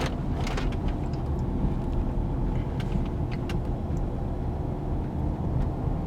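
A Range Rover with air suspension cruises on the road, heard from inside as a steady, close low rumble of engine and road noise with a few faint clicks and rattles. No speech.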